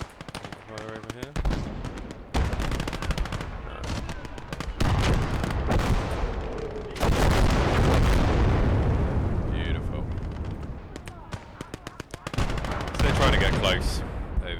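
Gunfire from the WWII strategy game Call to Arms: Gates of Hell, with dense bursts of machine-gun fire, single shots and booming artillery rolling on and off, loud and continuous, with a voice talking over parts of it.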